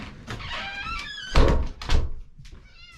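A pet cat meows repeatedly at a door, with short drawn-out cries broken by a couple of heavy door thunks, close by and fairly loud, and no one speaking.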